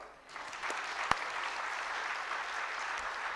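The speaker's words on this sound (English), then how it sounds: "Shall we applaud him once again, La?" Steady audience applause fills a closing-ceremony hall for a climate scientist, dense and continuous with one sharp clap standing out early, no talking.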